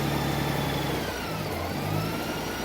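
A Honda Goldwing motorcycle engine runs close by after warm-up, a steady mid-pitched rumble with small rises in revs over a few seconds.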